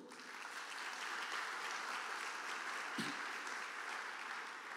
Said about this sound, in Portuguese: Dê um aplauso ao Senhor